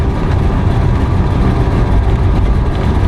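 A cold car engine with a radical cam and a freshly tuned Holley Brawler 950 carburetor idles loudly and steadily up close, a dense, rumbling drone that holds without a break.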